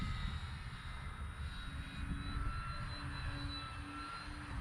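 A Dynam BF 109 radio-controlled model warplane drones steadily overhead, its electric motor a thin, continuous whine at moderate distance with no voices.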